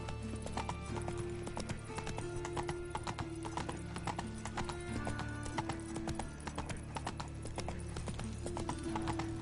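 Hooves of Roach, the horse in The Witcher 3 video game, clip-clopping in a steady trotting rhythm over continuous background game music and ambience, close and clear for the whole stretch.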